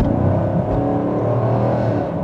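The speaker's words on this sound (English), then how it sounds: "taking the Camaro out driving. We're gonna start out in tour mode and see what that's like." A 2022 Chevy Camaro 1SS V8 driving in tour mode gives a loud, close, continuous low engine rumble that holds steady and even, with no voices over it.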